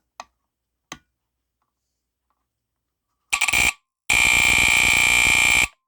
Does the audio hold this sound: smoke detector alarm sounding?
yes